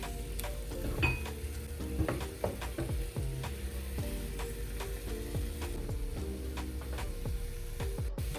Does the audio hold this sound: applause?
no